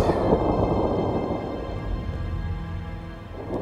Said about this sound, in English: And his thunder rolled around him.